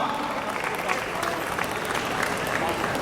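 An audience at a children's Janmashtami costume contest applauds a young participant, a continuous wash of clapping with crowd murmur and some voices mixed in.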